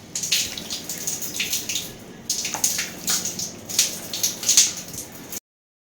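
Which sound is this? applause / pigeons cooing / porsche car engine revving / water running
water running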